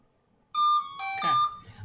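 A doorbell chimes at a home, a bright two-tone ring that starts abruptly and sustains its tonal notes for over a second, fairly loud and close, with some background rustle.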